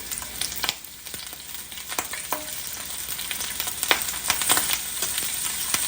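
Pieces of goat meat brown in a hot pan with a continuous close sizzle, punctuated by scattered sharp clicks and scrapes as the meat is moved and turned, no voices.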